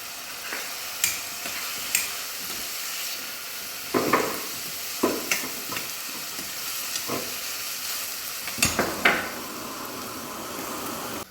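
Sliced onion and green chillies fry in oil with turmeric for mutton kheema, giving a continuous close hiss of sizzling broken by occasional sharp stirring scrapes and clinks.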